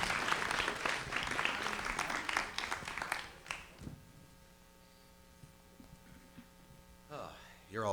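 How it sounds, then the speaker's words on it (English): A crowd at a Pittsburgh 48 Hour Film Project networking event applauds for Michael, a full burst of clapping that fades out after about three seconds into a quiet room with steady electrical hum, then a voice starts near the end. "Let's give him a round of applause"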